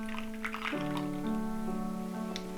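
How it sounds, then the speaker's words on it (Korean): Water is poured for morning tea in a home, a soft, faint, steady trickle whose ringing tone shifts in pitch as the vessel fills. "이 물 따르는 소리가"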